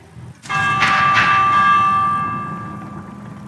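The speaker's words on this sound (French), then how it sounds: "Faire sonner la cloche d'alarme." An alarm bell in Minecraft Dungeons strikes once, loud and ringing, and its bright metallic tone hangs on and slowly fades away.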